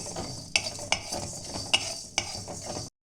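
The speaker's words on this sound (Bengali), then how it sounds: "দিয়ে এটাকে আমি হালকা ভেজে নেব। এটা একটু ভেজে নিয়ে আমি মিক্সিতে গুঁড়ো করে নেব।" Spices including four cloves being lightly fried in a pan, a steady soft sizzle broken by a few sharp metallic clinks and scrapes of stirring, close and alone, ending abruptly.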